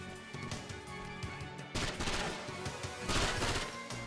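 Gunfire in a PS2 or PSP game, repeated shots crackling over a dense, busy game soundtrack, growing louder and denser partway through.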